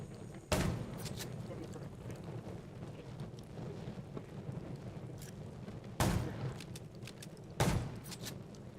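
Three sharp, loud gunshots in the zombie game Undawn ring out, spaced apart, over a quiet low background rumble.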